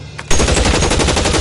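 Gunfire in the video game L.A. Noire: a sudden loud burst of rapid machine-gun shots, close and dense, following a brief quieter moment.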